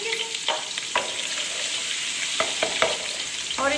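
Ginger and garlic fry in hot oil for a Sindhi chicken biryani as a spoon stirs them, giving a continuous close sizzle broken by several sharp scraping and clanking strokes against the pot.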